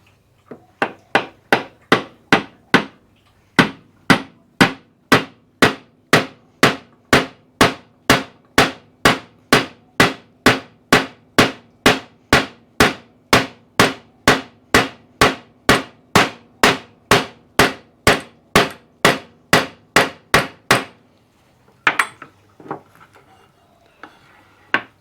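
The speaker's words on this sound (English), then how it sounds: "Grab a pin punch, knock that down a little bit deeper." Rapid, evenly spaced metallic hammer strikes on a pin punch ring out close by, dozens in a steady rhythm, driving a pin into a trailer jockey wheel handle, ending with a few scattered clanks.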